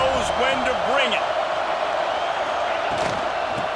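A stadium crowd roars and cheers in EA Sports College Football 26, a loud, dense wash of noise with whoops rising above it, under a commentator talking.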